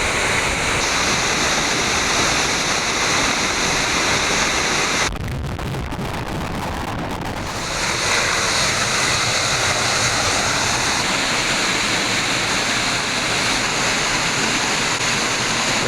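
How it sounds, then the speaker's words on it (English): Niagara Falls roaring as heard from a tunnel beneath the falls, a dense, loud, continuous rush of pounding water that drops away briefly midway before returning just as strong. "We're in a tunnel underneath the Q Falls, more or less."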